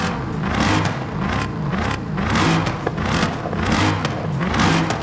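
A stock 5.4-litre car engine in the racing video game Forza Horizon 5 revs repeatedly at mid-range rpm, rising and falling in loud, rhythmic surges with no talk over it.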